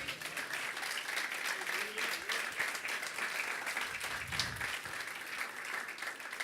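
Church congregation at a Sunday worship service claps steadily, dense sustained applause filling the room, with a voice speaking over it partway through.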